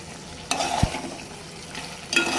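Vegetables fry in a pan on a gas stove, with a soft steady sizzle broken by a few sharp scrapes and clatters as a utensil stirs them, close and alone.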